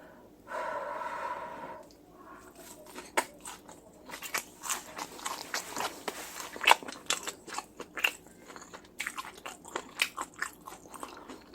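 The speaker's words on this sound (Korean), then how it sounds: "이 바삭바삭한 소리 들리십니까?" Loud crunching as someone bites and chews a crispy squid pancake with Cheongyang chili and perilla leaves, with crackling bites in quick succession and breathing through the nose between mouthfuls.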